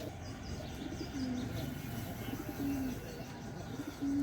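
Pigeons coo in a home loft where some birds are sick with a head-twisting illness, soft repeated coos rising now and then over a steady murmur of background noise.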